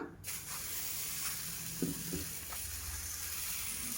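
Set dosa batter sizzling on a well-heated pan, a steady close hiss and crackle throughout, with a few soft clinks of utensils and no talk.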